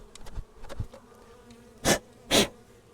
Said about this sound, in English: there are some good bees anyway here